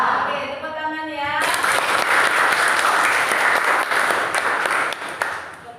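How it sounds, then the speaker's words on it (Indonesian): Students in a classroom break into applause after a brief voice, the dense clapping swelling loud and close and holding steady until it tapers at the end. "Oke, tepuk tangan ya."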